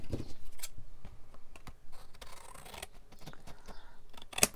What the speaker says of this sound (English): I'll use my old scissors because it's starting to.